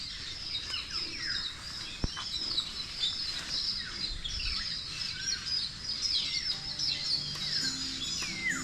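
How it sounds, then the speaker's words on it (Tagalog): Many crows call from fruit trees while feeding, a dense, continuous outdoor chorus of overlapping bird calls at moderate distance with a single sharp knock partway through. "ang daming uwak pati oh"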